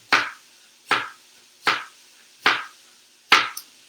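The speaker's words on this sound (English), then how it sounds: "now what I'm going to do is I'm just going to cut it" A knife slices through a potato on a cutting board in five crisp, evenly spaced chops, each a sharp close thud with a short trailing scrape, separated by near silence.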